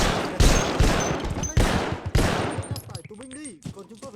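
Gunfire in the Vietnam War video game Vietcong: several loud, close rapid bursts of automatic fire crackling over a few seconds, then a faint tail of game effects.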